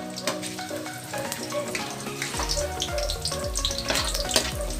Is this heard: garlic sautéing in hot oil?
yes